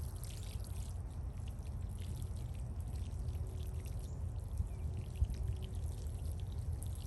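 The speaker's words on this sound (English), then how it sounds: "I'm just going to water this in." Water pours steadily from a watering can or hose onto a freshly sown garden bed in Florida, a continuous soft hiss and splash close by with no talking.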